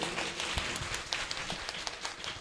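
An audience at a religious gathering claps steadily to welcome a guest, a dense patter of many hands heard at a moderate distance.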